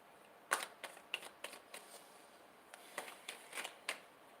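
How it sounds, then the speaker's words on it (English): Tarot cards being shuffled by hand, a run of crisp, quick riffling snaps and flicks at close range, some in quick pairs and others spaced apart, fairly quiet with no talking. "So I'm just going to shuffle a card out"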